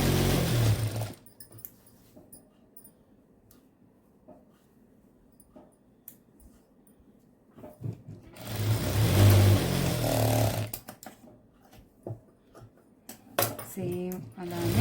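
A sewing machine stitches together the front and back parts of a garment. It runs in two bursts, one brief and one longer, with a quiet stretch between them and talking around them.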